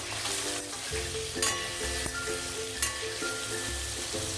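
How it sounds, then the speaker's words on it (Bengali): Fresh paneer frying in a pan while being gently stirred, a dense close sizzle with crackles and occasional spoon scrapes and clinks against the pan, no talking. "তাই জন্য আপনারা এভাবে ভেজে রান্না করবেন"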